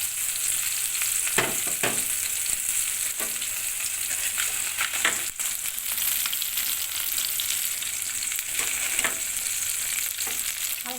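Rohu and katla fish frying in hot oil for a Bengali curry, a steady dense sizzle with crackling pops and a few sharper spits, continuous and close throughout.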